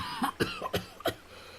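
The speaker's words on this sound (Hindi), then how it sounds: "जोर से खांसने लगता है।" A sick man in a village coughs hard several times, four sharp, harsh bursts spaced about a third of a second apart and fairly close, followed by a faint trailing breath.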